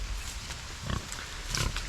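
Pigs on a farm give a couple of low, soft grunts against a steady outdoor background hiss, faint and somewhat distant.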